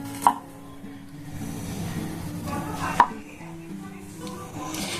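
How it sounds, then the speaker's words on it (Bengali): Knife chopping fresh ginger into thin slivers on a cutting board, with a few sharp, distinct blade strikes standing out above a steady, quieter background of kitchen activity. "এইটুকু জিনিস চপারে হবে না বলে আমি ছুরিতেই কেটে নিচ্ছি"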